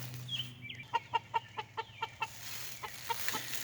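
Backyard chickens cluck excitedly as Swiss chard and spinach are tossed to them, a quick run of sharp rhythmic clucks up close over a low background hum.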